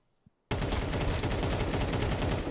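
Rapid AK rifle fire in a Counter-Strike match, a dense continuous burst of loud shots after a brief quiet start, with no talking.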